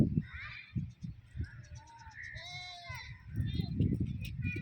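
A goat in an open field gives a few short, wavering bleats midway, somewhat distant, while a child and an adult talk and move around nearby.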